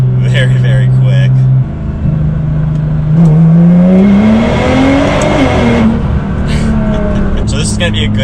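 Twin-turbo Nissan GT-R with anti-lag launch control accelerating hard, a loud engine drone rising in pitch through the gears, heard from close by, with people talking over it.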